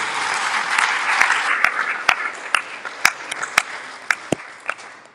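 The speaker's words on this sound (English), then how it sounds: "I think let's give them all another round of applause." A room full of retreat attendees gives a sustained round of applause, steady dense clapping with a few sharper, closer claps standing out, tapering toward the end.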